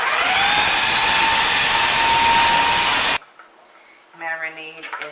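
A kitchen blender whirs loudly and steadily while blending a green lime fajita steak marinade, then cuts off abruptly, leaving a quiet room where a voice starts talking.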